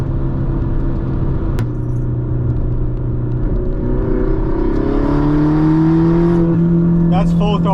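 A modified manual Mini Cooper S pulls hard at full throttle in third gear, its engine note rising steadily under loud road rumble, with a person talking over it inside the car.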